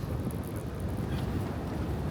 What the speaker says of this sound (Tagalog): grabe na yung hangin dito guys